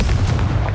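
Confringo blasting spell explosions in Hogwarts Legacy, a short burst of low booming, crackling blasts that repeat rapidly and stay loud throughout.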